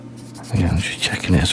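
Fine-grit sandpaper rubbing across a 1:12 Tamiya Yamaha YZF-R1M model motorcycle fairing, two short close scratchy strokes after a quiet start.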